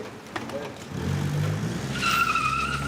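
A car races fast through a street intersection while trying to avoid sniper fire, its engine and tires rising to a loud, sustained whoosh with a brief skid-like squeal near the end.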